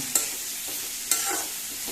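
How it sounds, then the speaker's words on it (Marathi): Bitter gourd and tomatoes frying in oil for a Goan bhaji, giving a steady close sizzle with two sharp stirring scrapes of a spoon against the pan. "तेलानूच मातशी तळसिटीत रावप ती"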